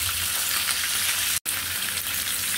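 Rohu fish lightly fries in oil in a pan with a loud, continuous crackling sizzle, broken only by a very brief gap of silence midway, and no talk.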